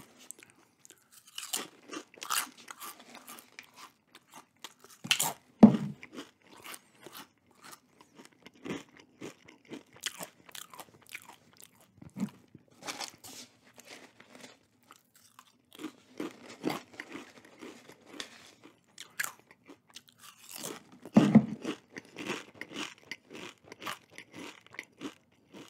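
Nacho Cheese Doritos Minis chips from a can being eaten up close, with repeated crisp crunches and chewing in irregular bursts throughout, some bites louder than others, and no talking.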